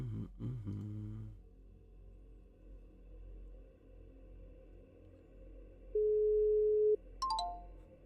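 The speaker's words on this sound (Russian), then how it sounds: "Звонок пошел." A Telegram call is being placed, giving a single steady electronic tone of about a second at moderate loudness. Faint low background hum and a few soft clicks surround it, with a short rising chirp near the end.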